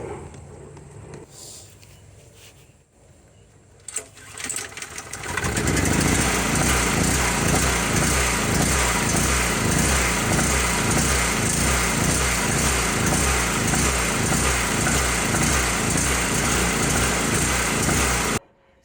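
A rebuilt portable gasoline generator is cranked with a few pulls, then catches and runs loud and steady with a close, buzzing, evenly pulsing engine drone for over ten seconds before cutting off abruptly.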